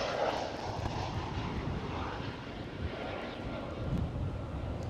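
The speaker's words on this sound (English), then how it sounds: "Air France with an A320." An Air France Airbus A320 at Amsterdam Schiphol gives a steady, full jet-engine roar that holds evenly throughout, with a faint whoosh of wind across the microphone.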